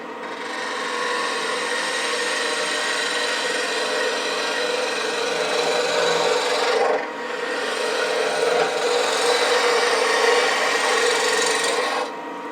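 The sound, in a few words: spindle roughing gouge turning a wooden stool leg on a lathe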